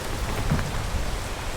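Steady, dense rain pours down during a mountain hike, a continuous close hiss of drops hitting surfaces with a few low rumbles underneath, no voices.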